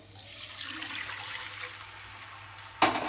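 Two cups of water poured into pan-fried rice for Hyderabadi bagara rice give a steady, moderately close rushing pour that runs for several seconds, then a brief clatter at the end.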